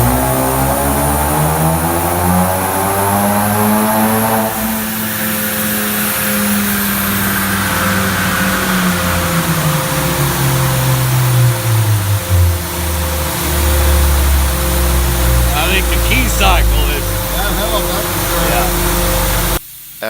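A 2.3 Mustang running a 5-star tune roars on a dyno, its exhaust note climbing and falling through sweeping revs, loud and sustained, ending in a brief drop-off.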